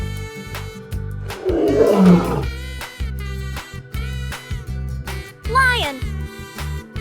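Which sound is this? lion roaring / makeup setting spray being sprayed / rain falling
lion roaring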